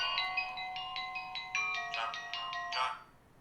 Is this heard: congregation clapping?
no